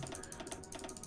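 Quick, dense clicking of a computer mouse and keyboard while playing Hearts of Iron IV sounds close and fairly faint, in a steady patter with no voices.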